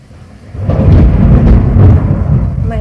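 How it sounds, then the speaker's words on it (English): Thunder rolls during a storm, a deep, heavy rumble that swells within the first second and stays strong and close for about two seconds before easing slightly, with no talking. "My gosh, it's starting to storm."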